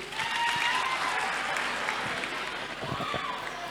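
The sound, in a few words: children applauding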